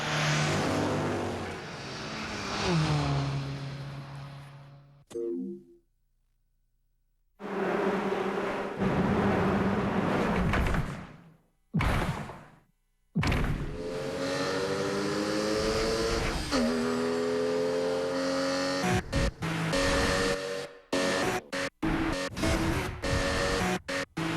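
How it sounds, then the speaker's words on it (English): A Porsche Boxster engine revs hard in a television advert, close and loud, with rising and falling pitch sweeps and gear changes. The roar cuts out sharply in several silent gaps and ends in quick bursts. "Perfectly tuned, the all-new Boxster."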